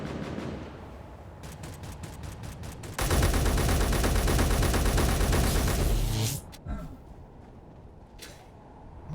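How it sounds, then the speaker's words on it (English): Video game gunfire: a run of separate shots, then a long, loud, dense stretch of continuous automatic fire that cuts off abruptly, followed by a few scattered distant shots. "why am I hearing other shooting?"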